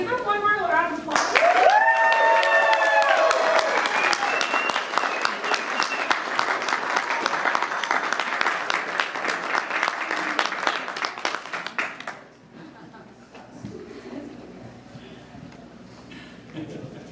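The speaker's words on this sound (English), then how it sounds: "give them one more round of applause" An audience at a comic-con costume contest breaks into loud, sustained applause with whoops and cheers, dense clapping lasting about ten seconds before dropping off abruptly, leaving quieter murmurs and a voice speaking.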